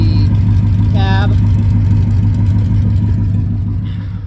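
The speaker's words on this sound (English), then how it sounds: "It makes a nice chopping sound at idle with the pace setter long tubes" A 2004 Ram 1500 pickup truck V8 idles steadily through long-tube headers, with a deep, low, choppy rumbling exhaust throughout, and a brief higher tone briefly rises above it.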